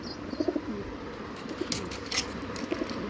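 Domestic breeder pigeons coo softly and low, repeating a few times in short clusters, fairly close, with a few faint rustles and background noise.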